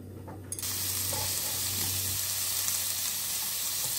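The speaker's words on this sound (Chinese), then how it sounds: "把五花肉煸出油来" Slices of pork belly hit a hot wok and begin rendering their fat, a sudden onset of dense, steady sizzling heard close and continuing without talk.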